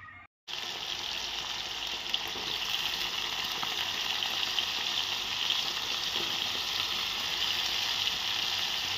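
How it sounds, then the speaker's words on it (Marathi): Potatoes frying in a pan at home, a constant close sizzle that starts abruptly after a moment of quiet and holds steady to the end with no talking. "बटाटा शिजाय घालते मस्त त्याची."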